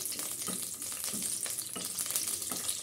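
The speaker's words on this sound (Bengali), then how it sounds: "শুকনো মরিচটা খুব ভালো করে একটু ভেজে নিব" Dried red chillies fry in a pan, giving a soft, fairly quiet sizzle with light stirring scrapes and no talk.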